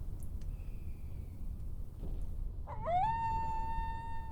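A dog in the Final Fantasy VIII game howls once, a rising then steady tonal wail near the end, over a low rumbling background.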